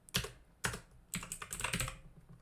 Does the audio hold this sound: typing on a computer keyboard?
yes